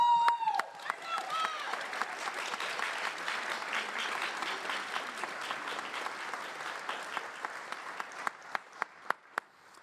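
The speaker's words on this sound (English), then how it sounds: "big round of applause for her." A school band concert audience gives a warm round of applause, dense clapping that thins out into a few scattered, louder individual claps before fading.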